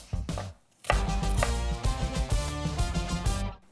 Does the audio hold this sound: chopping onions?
yes